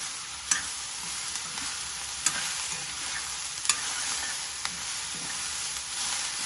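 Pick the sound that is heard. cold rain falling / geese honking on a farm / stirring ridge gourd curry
stirring ridge gourd curry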